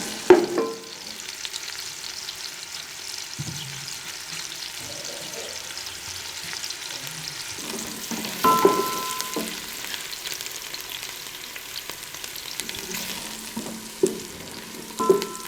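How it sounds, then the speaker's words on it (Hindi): Finely chopped onions frying in about a cup of ghee in a copper pot, a steady soft sizzle with occasional louder crackles and the scrape of stirring, no talk. "प्याज को फ्राई करें और इसे ब्राउन होने दें।"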